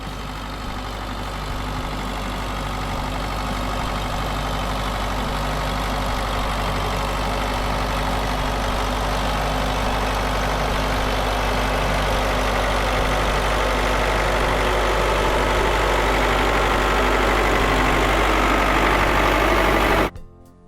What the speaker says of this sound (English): Car and a tractor face off, strapped together, engines humming.